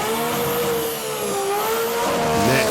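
A Japanese drag race car with well over 1,000 horsepower at a drag series meeting, engine screaming loud and steady at high revs as the tyres fight for grip, with no voices.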